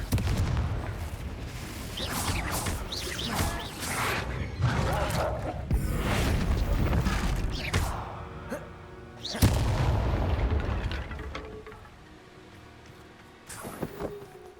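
Blast spell explosions in the video game Hogwarts Legacy: a rapid string of booming bursts and crackling impacts, loud and close, easing off toward the end before a couple of final pops.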